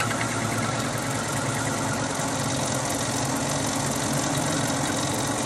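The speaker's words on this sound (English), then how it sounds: "I got this cutter set up so that I can plunge cut with it." Milling cutter plunge cutting a brass trumpet finger button, a loud, continuous, dense machining roar and whine holding steady from start to end.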